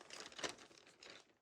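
Plastic crinkles in two short bursts, close and fairly quiet, with a louder crackle near the start.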